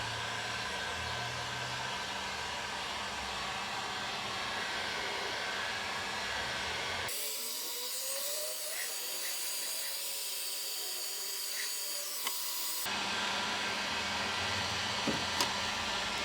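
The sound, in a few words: heating glue to soften it for scraping, E36 interior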